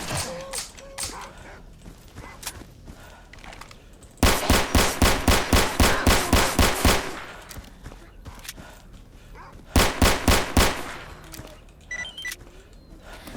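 Two loud bursts of rapid automatic AK rifle fire in the S.T.A.L.K.E.R. video game, the first lasting about three seconds and a shorter second one, with quieter game ambience between and no talk.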